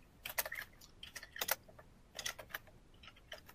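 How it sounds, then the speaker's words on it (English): Keyboard typing in an indoor meeting or discussion space, coming as irregular bursts of clattering keystrokes with short pauses between them, moderately faint, with no talk over it. "I hear some typing and I'm not sure where it's coming from there."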